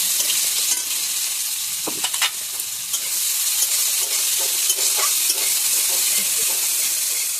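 Chopped onion fries with a bay leaf in a pan for a shrimp and jackfruit curd dish, making a steady, close hiss of sizzling broken by repeated scrapes and clicks of stirring.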